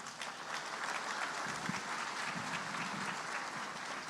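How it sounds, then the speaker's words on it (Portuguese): Audience at a business talk applauds in a dense, steady round of clapping that holds evenly for several seconds, loud and close with no voices over it. "Uma salva de palmas para o Walter."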